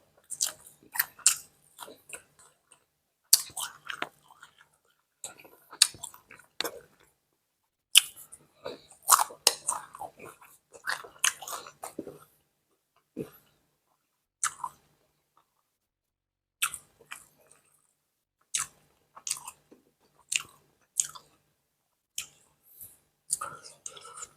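Someone chewing a Thai-style hamburger up close, bursts of wet, crunchy mouth sounds in irregular clusters separated by short silences, with soft speech in places.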